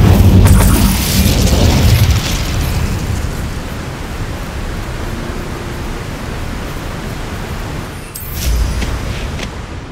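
The Incendio fire spell from the game Hogwarts Legacy bursts out as a loud whooshing roar that settles into a steady rushing hiss, with a second surge near the end.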